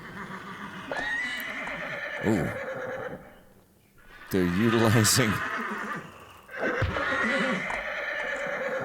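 Horses in the Thief: The Black Parade game give several loud, quavering neighs and whinnies in separate bursts with a short quiet gap between them, while someone talks over them.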